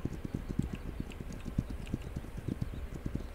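Horse hooves clip-clopping in a video game, a quick steady rhythm of close, distinct thuds continuing for a few seconds with no talk.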